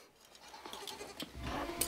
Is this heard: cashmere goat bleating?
yes